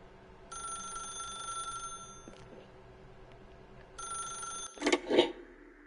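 Telephone rings inside The Stanley Parable video game: two distinct electronic bell bursts, each lasting over a second, separated by a pause, followed by a couple of brief louder clatters.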